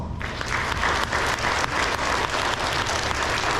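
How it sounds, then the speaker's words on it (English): An elementary school awards audience gives a sustained round of applause, many hands clapping in a thick, continuous wash at moderate distance. "Let's give them a round of applause."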